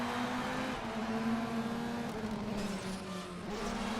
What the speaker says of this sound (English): A little bit of scraping. You can hear.